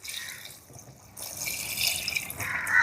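Diluted coconut milk, a second and third extract made with four glasses of water, pours into a pot as a brief splashing stream that grows fuller and louder toward the end.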